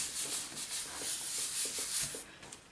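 A cotton bud rubs across a stamped card, a soft, close scratchy brushing in short repeated strokes that fades slightly at the end.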